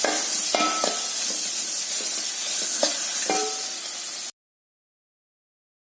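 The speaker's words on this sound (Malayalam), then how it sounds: "ഉപ്പ് ചേർത്തിട്ട് വീണ്ടും വഴറ്റുന്നു" Onion, capsicum and tomato sautéing with salt in a pan for chilli gobi, a steady hissing sizzle broken by a few spatula scrapes and clicks before it cuts to silence.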